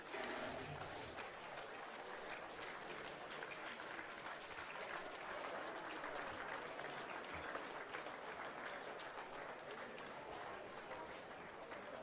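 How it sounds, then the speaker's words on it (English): A crowd at a charity football match at Seiffert Oval applauds steadily as a player leaves the field, with dense, even clapping throughout and no break. "it's a bit upsetting seeing this big Damon Booby coming off the field as we clap him off"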